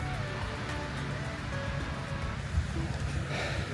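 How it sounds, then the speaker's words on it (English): Ocean surf at the Jersey Shore, heard while walking out through the dunes: a steady, distant wash of waves blended with wind, with faint voices underneath. "So that's the ocean as you sort of come from the dunes"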